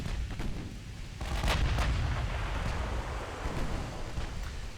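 Warship secondary battery guns fire in a naval battle in Ultimate Admiral Dreadnoughts, with repeated deep, booming blasts. They come in quick succession over a constant rumbling, wind-like roar of sea and battle noise.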